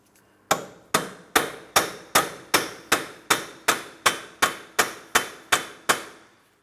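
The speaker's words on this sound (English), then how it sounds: "A hammer and punch directly in the center of the axle shaft. Let's tap on this" Hammer and punch striking the center of an axle shaft on a 2004-2008 Pontiac Grand Prix, knocking it free of the wheel bearing: fourteen sharp, evenly spaced metallic taps, close and loud, with no voices.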